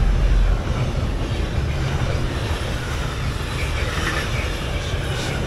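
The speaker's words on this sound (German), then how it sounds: "Schon wieder kommen hier Züge vorbei." A train rolls past a trackside bivouac at night, a loud, steady broadband rumble of wheels and wagons that holds close and continuous throughout, with a heavier low thump at the start.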